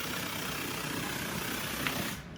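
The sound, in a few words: soundbar making a noise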